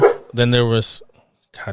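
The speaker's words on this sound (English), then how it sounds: "But then my dogs are barking." Several pet dogs bark at home in the background, a short burst of yapping mixed with someone talking over it.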